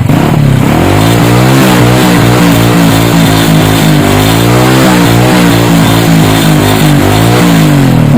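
A motorcycle engine revving close by, loud and continuous, with the pitch rising and falling through repeated throttle blips over several seconds and no talking.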